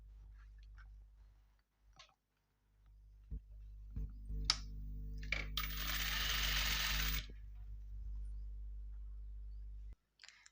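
Sewing machine stitching along the edges of blouse fabric, a steady close mechanical whir that runs for several seconds, with clicks and handling noises before and after.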